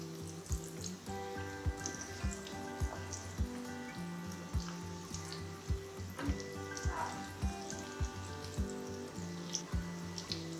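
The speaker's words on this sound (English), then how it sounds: "Now I'm going to deep fry it. Fry the patty till golden brown." Corn patties deep frying in hot oil, a continuous bubbling crackle with rhythmic low knocks and a tonal hum running through, fairly quiet and steady with no talk.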